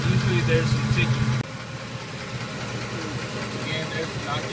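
A 5.4L 3-valve engine idles up close with a rough, knocking rumble; the level drops suddenly early on, then the steady idle carries on.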